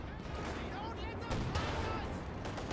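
A Pak 40 anti-tank gun in Company of Heroes 2 firing amid heavy battle noise: sharp heavy reports over a dense, continuous wall of gunfire and rumbling, loud throughout.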